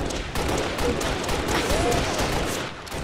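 Gunfire from a Halo-style multiplayer match rattles in quick overlapping bursts, loud and dense, with a voice talking over the shooting.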